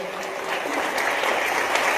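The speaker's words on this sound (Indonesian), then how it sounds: "Enggak pas juga tadi tepuk tangan ini." Audience applause at a religious talk on the law of attraction, a steady wash of clapping that swells after a quieter start and holds for a couple of seconds without voices.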